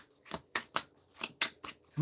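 Tarot cards are shuffled by hand in quick, separate swishes, about seven crisp bursts in two seconds, close and fairly soft, with quiet pauses between each pass.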